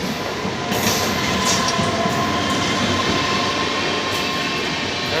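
The Chennai Mysore Intercity, an Indian Railways passenger train, rolls in beside the platform with a loud continuous rumble of coaches, rattling wheels and brief squeals, close by and steady throughout.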